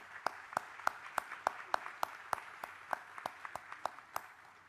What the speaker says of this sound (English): So the Bowie Volunteer Choir, let's give them a round of applause